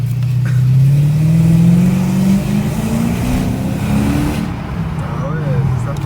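A car engine accelerates and revs loudly from inside the cabin, its pitch climbing steadily and then easing back, with people talking over it.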